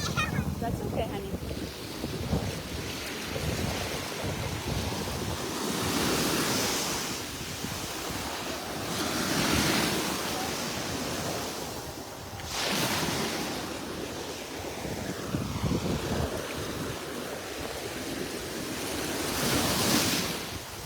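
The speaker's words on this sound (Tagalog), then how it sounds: "Ang sarap pakinggan ang alon." Ocean waves breaking and washing ashore in repeated surges every few seconds, close and fairly loud, with wind buffeting the microphone and occasional faint voices nearby.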